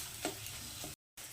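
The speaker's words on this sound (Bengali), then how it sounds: "সেই জন্য আমি অনবরত নাড়ছি।" Masala being stirred in a pan over medium heat while chicken cooks for a South Indian chatina chicken dish: faint scraping strokes over a soft sizzle, with a brief gap of silence.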